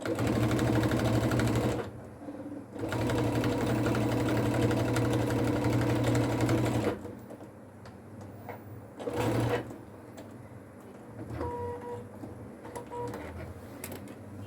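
A sewing machine runs in long steady stitching bursts on a fabric wallet set to a fine normal stitch, stopping and starting with a whirring motor hum and quieter pauses between runs.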